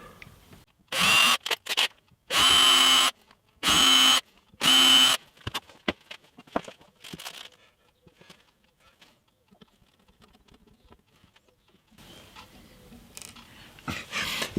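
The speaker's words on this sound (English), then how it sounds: "So just drill those little securing holes." Four short bursts of a small power drill whine in quick succession, each about a second long, drilling tiny screw holes for guitar tuners on a hollow body electric guitar, followed by quieter handling noises and faint clicks.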